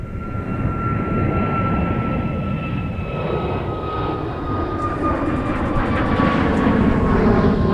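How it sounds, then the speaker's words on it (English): An airliner with GE LEAP turbofan engines takes off at a winter airport, a loud, sustained engine roar with a steady howling tone that holds throughout. "I love the sound of those GE LEAP engines"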